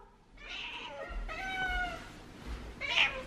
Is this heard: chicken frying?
no